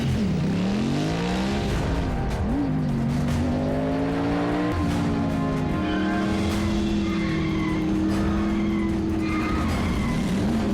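Race cars tearing along a road, engines droning in a steady, wavering high whine with tires squealing and skidding, loud and continuous without a break.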